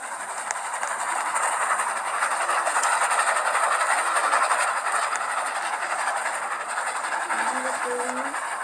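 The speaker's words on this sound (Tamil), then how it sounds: "நம்ம ட்ரெயின் ஓட்டிடலாம் நைஸாக போயிட்டு" A steady rumbling train runs continuously with a hissing, rattling drone throughout, loud and constant, no talking.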